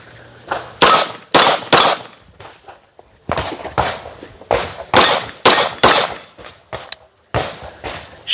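Rapid shots from a Kimber KDS9C Rail 9mm compact pistol, sharp loud reports fired in several quick strings with short pauses between them, close to the shooter.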